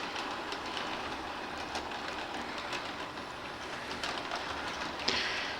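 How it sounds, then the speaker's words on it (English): A model Baltimore and Ohio passenger train with lit cars runs slowly, giving a soft continuous rolling rumble with light rhythmic clicks from the track and a brief squeal near the end. "follow Mr. Baltimore and Ohio here, which is running way too slow, but for a passenger train"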